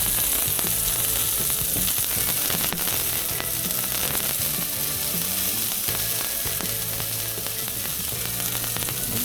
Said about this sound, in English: We'll get that sear going on with it.